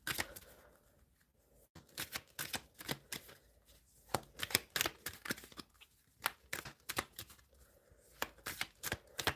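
Tarot cards shuffled by hand, bursts of sharp riffling flutter and papery slaps in irregular clusters, close and clear, with brief pauses between shuffles and no talking.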